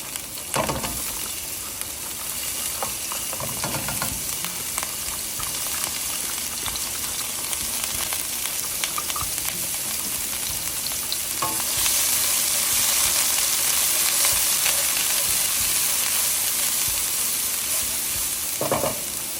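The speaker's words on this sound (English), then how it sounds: "Once the butter is in, add the diced onions." Diced onions fry in butter in a pan for ground beef tomato pasta, giving a loud, continuous close sizzle with scraping stirring strokes throughout and no talking.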